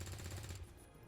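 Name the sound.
gunshot in XCOM 2 video game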